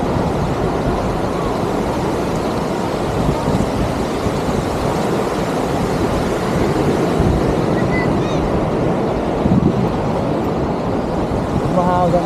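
Strong seaside wind roars steadily into the microphone at a surf beach in Dinadiawan, Isabela, with breaking waves rumbling underneath, continuous and loud throughout with a brief gust near the end.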